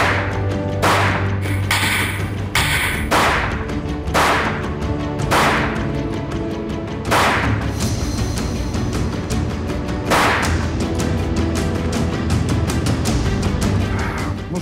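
An Italian Tanfoglio pistol fires a series of about nine loud, sharp shots at irregular intervals, each crack ringing briefly before the next, with no talking.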